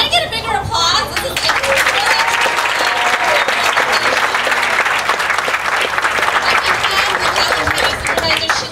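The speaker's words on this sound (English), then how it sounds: "Can I get a bigger applause?" Loud, sustained applause from an audience at an outdoor Special Olympics Law Enforcement Torch Run ceremony, dense clapping with cheering and crowd chatter throughout.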